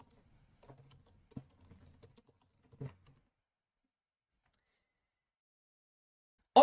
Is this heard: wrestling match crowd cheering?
no